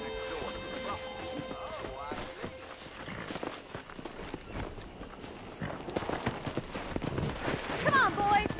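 Horse hooves clip-clop at a steady walk in the Red Dead Redemption video game, mixed with other game sounds and someone speaking, growing a bit busier toward the end.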